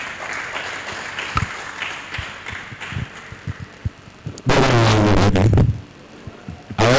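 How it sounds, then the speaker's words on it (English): A burst of applause from an audience at a press week event, dense and loud for about a second and a half, standing out against a murmuring room with scattered knocks. "A round of applause for him, please."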